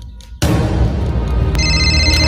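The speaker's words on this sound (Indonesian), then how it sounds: "Ada telepon nih." A telephone rings loudly in an indoor comedy scene, a sudden electronic ringtone that starts abruptly and continues steadily with a bright, repeating tonal pattern and no talk over it.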